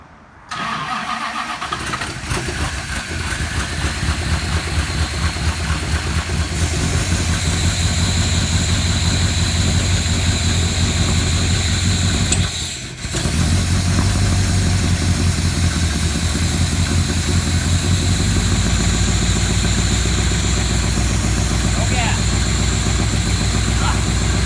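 A 1969 Plymouth GTX engine cranks and catches, then settles into a steady, loud idle that runs on with a brief dip midway.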